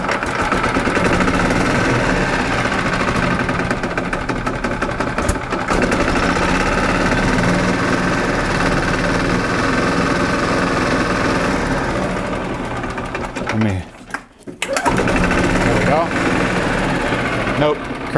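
A 1995 Yamaha G14 gas golf cart engine with a flat spot putters steadily at idle, then briefly sputters and dips near the end before running again.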